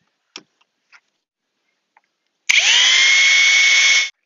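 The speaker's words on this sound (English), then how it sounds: "I'm just gonna drill two holes in each pipe to let the feeders come through." A few faint clicks, then a power drill starts abruptly, drilling holes in hydroponics pipe at a steady high whine for about a second and a half before stopping.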